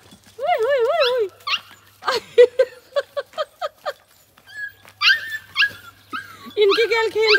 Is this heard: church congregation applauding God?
no